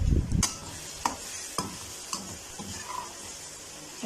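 Eggplant bharta with green chillies cooks in a pan with a faint, steady sizzle, broken by a loud knock at the start and several sharp utensil clicks and stirs spaced through the moment.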